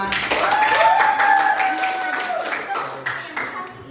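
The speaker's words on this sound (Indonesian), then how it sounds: "Tepuk tangan buat kelompok 5." A classroom audience gives a short burst of clapping for a student group. Voices talk and call out over the clapping, which thins to scattered claps as it fades.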